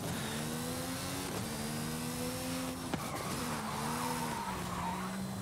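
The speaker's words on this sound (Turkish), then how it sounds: "El freniyle deneyeceğim, bakayım el freniyle ne kadar iyi yanlıyor." A Mercedes-AMG Project One in Forza Horizon 5 slides under the handbrake, its tires squealing in long wavering tones over a steady engine drone, with a sharp knock midway through.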